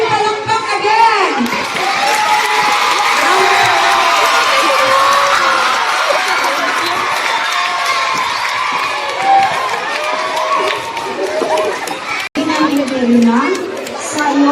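A crowd of children and adults at a school poetry recital contest cheers, shouts and claps loudly and continuously, with excited voices and chatter mixed in throughout.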